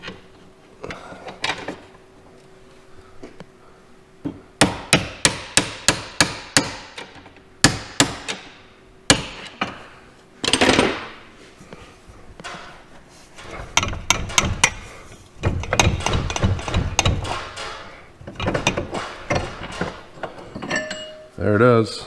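Sharp metal-on-metal hammer blows ring out on a rear spring bolt of a Ford F-350 truck, arriving in irregular bursts and clusters with pauses and some scraping between them.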